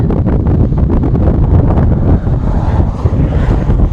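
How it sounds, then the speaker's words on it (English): Strong wind buffets the microphone in loud, rumbling gusts over a lava flow in New Mexico, a continuous roaring blast with brief dips in intensity. "Really windy."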